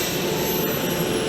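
A CARF Models F4 prototype RC jet powered by twin KingTech turbines roars steadily at an RC aircraft demo, a continuous loud turbine whine and rush with no break.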